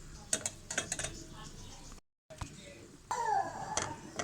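Popped corn being stirred into hot caramel in a pan: scattered scraping and clinking of a utensil against metal, with a brief pause, then denser stirring under a quiet voice.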